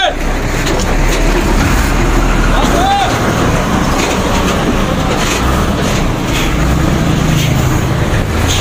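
A truck pulls away on a night journey with a loud, continuous engine and road rumble that fills the scene evenly from start to finish.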